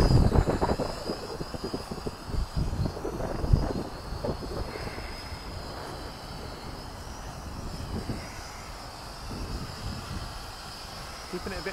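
A small Hubsan 502E GPS drone hums steadily with a high, whining motor tone in forward flight, while a person talks intermittently nearby over a breeze.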